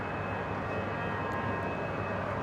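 A Fiji Airways 737 MAX 8 jet taxis out for departure at Brisbane International, a faint, steady distant engine whine and rumble with a thin high tone, no voices.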